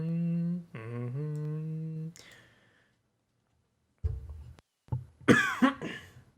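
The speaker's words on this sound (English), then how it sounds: "And then I coughed directly into the mic." A sudden, loud cough lands directly into a microphone, harsh and close, following a few seconds of humming vocal tones and a brief pause.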